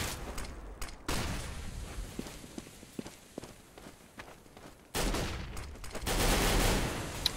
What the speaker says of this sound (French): qui va tomber sous les balles de Karrigan